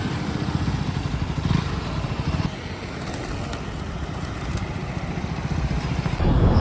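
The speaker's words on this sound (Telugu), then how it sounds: "డ్యూక్ 160 ఫస్ట్ టైం అయితే బైక్ ఎక్కబోతున్నా, చూద్దాం." A brand-new KTM Duke 160 motorcycle runs with a steady engine drone and some clatter, continuous and fairly close, rising slightly in loudness at the end.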